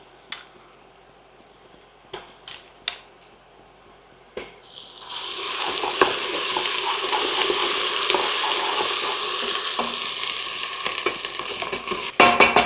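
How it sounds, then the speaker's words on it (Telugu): Ginger garlic paste hits a hot pot of mutton bones on high flame, bursting into a loud, steady sizzle after a few sparse clinks and taps, with stirring scrapes near the end. "ఈ టైంలో అల్లం వెల్లుల్లి పేస్ట్ కూడా వేసి వేపాలి"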